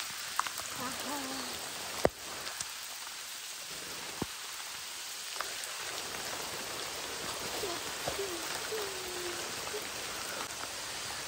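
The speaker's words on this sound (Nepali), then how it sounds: "पानी चाहिँ यस्तो खतरा परिरहेको नि" Heavy rain falls steadily on a mountain trek to Manichud Daha, a dense even hiss with a few sharp close drips and knocks scattered through, no voices over it.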